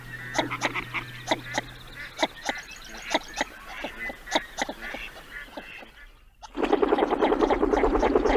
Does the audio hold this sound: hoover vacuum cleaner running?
no